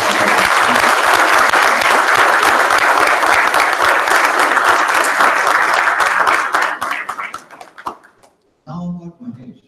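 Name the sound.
audience applause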